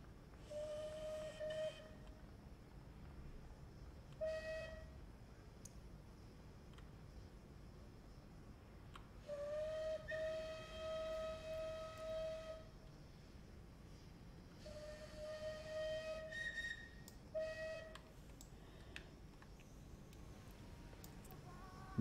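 Several steam locomotive whistle blasts in a video game, on arrival at Paignton, of varying length, some short and some long, sounding over a steady rumbling background with no voices.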